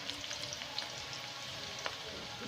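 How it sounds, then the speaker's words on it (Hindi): Onions lightly browning in a pan while making sarson ka saag give a continuous soft sizzle, with a few faint pops and crackles scattered through it and no talking. "अब इसको मैं थोड़ा ब्राउन कर लेती हूँ, हल्का सा।"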